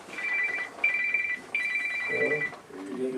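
A mobile phone rings during a planning commission meeting, three repeated electronic ringtone bursts cutting through the room before voices start talking near the end.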